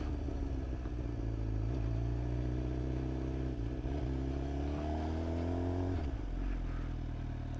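A 2025 Suzuki GSX-R 750 motorcycle running at low speed, its engine holding a steady, close, continuous drone with a gently rising pitch and faint clatter, no talking.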